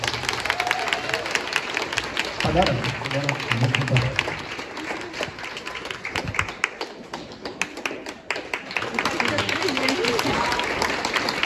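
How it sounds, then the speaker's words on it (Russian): Crowd applause at a year-end concert, a dense patter of many hands running throughout, with a person speaking over it partway through and a few sharper taps standing out. "Владислава, аплодисменты!"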